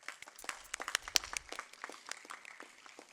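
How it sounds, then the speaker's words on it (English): Scattered applause from an audience for competition finalists at an inauguration ceremony, a thin spread of claps, some sharper and nearer, quiet overall and fading toward the end. "You all deserve a big round of applause."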